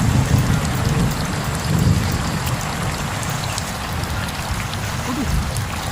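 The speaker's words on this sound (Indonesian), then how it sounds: "Hujan tuh." Steady heavy rain pours down with a dense, constant hiss, a low rumble underneath, and scattered drops close by.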